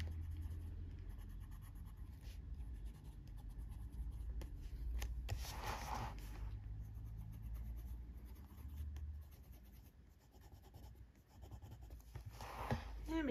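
Coloured pencil rubs across paper on a tortoise colouring page, a soft continuous scratching with a few firmer strokes, close and quiet throughout.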